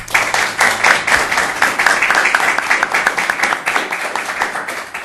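A studio audience at a Catalan sports talk show claps steadily for several seconds, dense continuous applause from many hands, fairly loud and close, with no speech over it.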